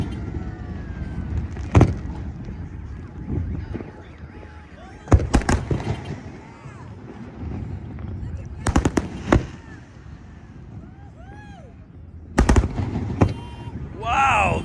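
Sea World's fireworks show, heard from across the water at Fiesta Island, sends several distant booming bursts and crackles at irregular intervals, with a low background murmur and people nearby talking.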